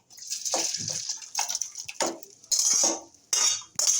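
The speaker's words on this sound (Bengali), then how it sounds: "এবার আমি এই গামলিটাতে ঢেলে নিচ্ছি" Cooked chicken curry with thin gravy poured into a metal bowl, close scraping clinks of a utensil against metal with wet pouring splashes in short bursts, no talking.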